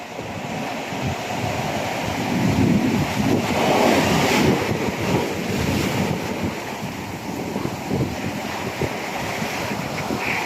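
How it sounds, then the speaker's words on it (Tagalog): Rough, stormy sea surf crashes and churns continuously, loud and close, with heavy wind buffeting the microphone throughout. "Parang ilog na yung dagat. Malaki alon."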